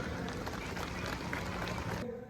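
A crowd claps steadily at the Bhim Mahotsav 2025 celebration in Badlapur, a faint, even patter of applause that stops abruptly after about two seconds.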